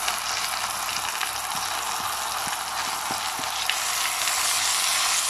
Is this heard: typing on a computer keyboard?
no